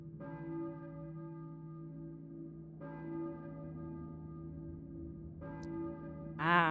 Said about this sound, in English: I hear a church bell, I think.